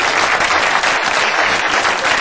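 Studio audience applause at a radio-show tribute, loud and dense, a steady wash of clapping filling the whole moment with no voices standing out.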